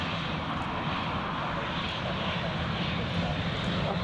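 Steady, broad engine roar of a Jet2 airliner at Newcastle Airport on a crosswind day, holding loud and even throughout with no voices over it.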